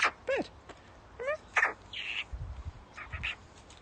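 Pet bird chirping indoors, a series of short bright tweets and rising whistles, some quick trills, close and fairly faint over a quiet room with low rumbles.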